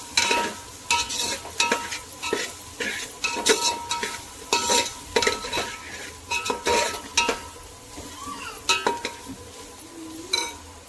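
Vegetables for pulao stirred in a frying pan, with a steady sizzle under repeated scraping strokes of a spoon against the metal, close and fairly loud throughout.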